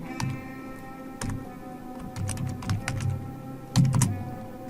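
Keys clack on a computer keyboard in irregular bursts, some strokes landing harder than others, over a faint steady hum.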